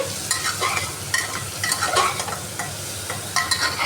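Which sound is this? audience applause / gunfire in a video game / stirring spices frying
stirring spices frying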